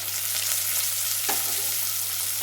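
Onion, green chili and curry leaves sizzle in a pan of hot oil, a loud, close and continuous frying hiss with a faint stirring scrape, and no talking.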